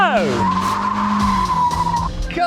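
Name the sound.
Mazda MX-5 Miata racing, tires skidding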